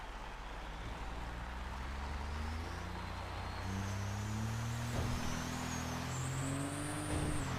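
A heavy truck towing multiple trailers in the FiveM driving game rolls along slowly, its engine a steady low drone with rising and falling tones throughout and no talking.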